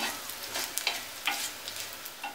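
Ginger and garlic frying in hot oil for a Kerala-style mango pickle, a steady soft sizzle with small crackling pops throughout and no talk.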